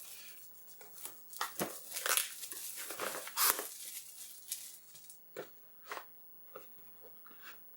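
Plastic shrink wrap crinkles and crackles on a sealed, boxed Logic 3 Action Pad joystick for Amiga and Atari ST, in close, irregular bursts of handling that thin out into a few sparse crackles toward the end.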